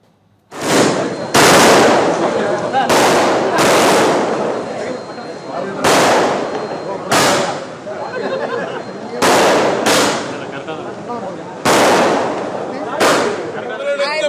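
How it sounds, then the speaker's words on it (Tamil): Firecrackers burst in loud, rapid crackling volleys at a BJP victory celebration in Chennai, several long rattling strings separated by brief gaps, close and dominant with crowd chatter beneath. "சென்னை கமலாலயத்தில் பாஜகவினர் பட்டாசு வெடித்து கொண்டாட்டத்தில் ஈடுபட்டனர்"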